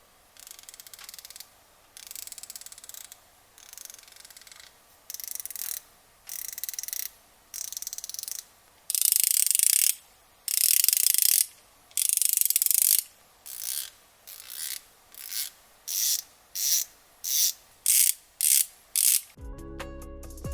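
A Snap-on ratchet and an Icon ratchet with a comfort grip handle give a long series of loud, close clicking bursts. The early strokes are longer and the later ones are quicker and shorter, ending in a sharp clunk.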